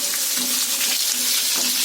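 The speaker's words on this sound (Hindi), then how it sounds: "कांदा फ्राई हो गया" Chopped onion sizzles steadily in hot mustard oil with cumin seeds, curry leaves and green chillies, a continuous close frying hiss with faint stirring and no talk.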